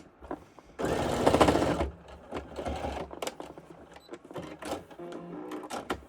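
Sewing machine running a short basting stitch just inside a quarter inch on fabric for a reusable Easter egg, one loud continuous burst of about a second, then quieter handling clicks and rustles.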